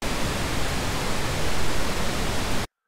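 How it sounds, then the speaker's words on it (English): Rocket launcher thrust from the Wwise Cube game: a loud, steady roaring hiss that holds for under three seconds and then cuts off abruptly. "we see that it contains this thrust sound"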